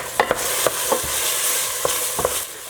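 Chorizo cooking in a pot over medium-high heat, stirred with a utensil: a steady sizzling hiss with several distinct scraping, clinking stir strokes spaced irregularly, close and fairly clear, no voices.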